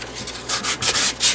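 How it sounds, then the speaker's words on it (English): Dried spackle on a wall is sanded by hand in a series of soft, rasping back-and-forth strokes, close and steady, with no talking. "it's time to begin the sanding process before we do the final step"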